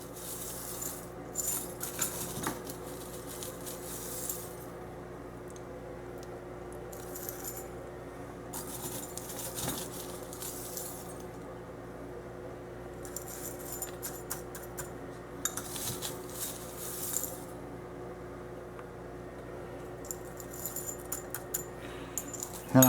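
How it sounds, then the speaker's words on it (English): Impure silver shot poured into an anode basket during silver refining: quiet bursts of metallic clinking and rattling pellets come in irregular clusters over a low, steady electrical hum. "This is our impure silver shot that I've melted up. And I'm just going to add it to the anode basket up here"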